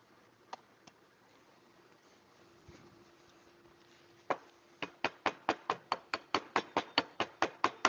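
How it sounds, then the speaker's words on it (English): A hammer drives an inner axle seal into place on a 2003 Subaru Outback with a 4EAT automatic: a couple of isolated taps, a pause, then a steady run of about a dozen sharp, evenly spaced metallic strikes, close and clear. "use my special tool off screen to put that back together, aka special tool is my hammer"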